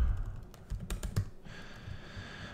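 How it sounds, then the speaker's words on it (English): Close, quiet keystrokes clatter on a computer keyboard in a short irregular burst of typing, then a faint steady hum follows. "I can type"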